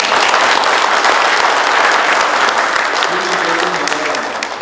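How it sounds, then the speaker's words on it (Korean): Sustained applause from a room of attendees at a municipal economic task-force briefing meeting, a dense steady clatter of many hands that tapers slightly toward the end, with no talk over it. "이 부분에서 전부 박수 한번 부탁을"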